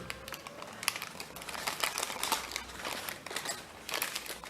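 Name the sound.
paper being mountain-folded for an origami dobsonfly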